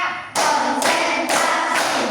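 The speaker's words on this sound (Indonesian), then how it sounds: "Tepuk 1. Tepuk 2. Tepuk 3. Tepuk 4." Four loud, crisp hand claps spaced evenly about half a second apart, close and alone without voices.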